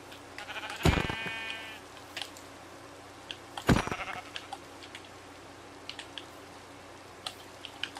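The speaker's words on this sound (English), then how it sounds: "Could kill the sheep." Sheep bleats in the Minecraft video game, two loud wavering calls about three seconds apart, close and clear over a quiet background with small clicks and drips between them.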